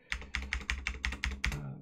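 Repeated keypresses on a computer keyboard, about nine evenly spaced sharp clicks in under two seconds, close and alone with no talk.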